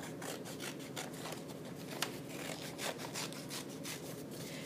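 Scissors snip quickly through paper as a mitten shape is cut out, a close, quiet run of repeated crisp cuts and rustles.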